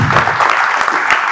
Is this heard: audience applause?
yes